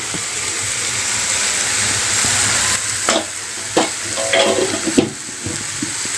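Spices, including cumin powder and salt, fry with chopped onion for onion chutney, making a loud, steady sizzle with no water added, while stirring later adds uneven scraping and clattering bursts.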